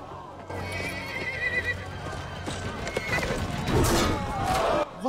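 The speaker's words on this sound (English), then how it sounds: "get the horse out of there" A horse whinnies loudly amid clattering hooves and commotion in a Game of Thrones scene, with excited voices mixed into the noisy scene.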